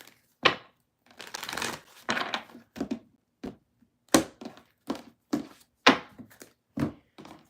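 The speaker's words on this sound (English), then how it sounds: "One more deck to shuffle" Tarot cards are shuffled in short bursts: quick riffles and soft slaps repeat, separated by brief pauses.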